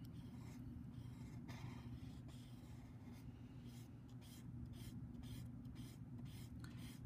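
A graphite pencil is softly shaded across paper while drawing a sphere, giving quiet, continuous scratchy strokes in a gentle back-and-forth rhythm over a low background hum.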